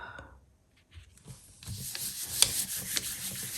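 Hand rubbing a pattern transfer onto a surface during a craft project gives a soft, steady dry friction, faint at first and then growing into continuous scratchy strokes, close up with no talking.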